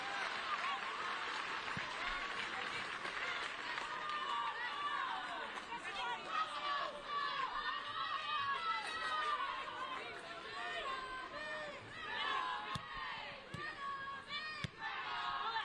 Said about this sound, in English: I definitely think the home crowd, you can hear them